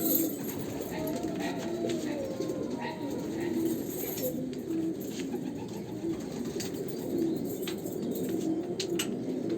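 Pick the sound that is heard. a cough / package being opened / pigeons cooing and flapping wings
pigeons cooing and flapping wings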